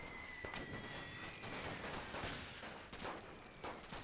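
Artillery and rifle fire crackle through a World War One siege battle in The Great War: Total War, with repeated sharp blasts and distant booms over a constant din of gunfire.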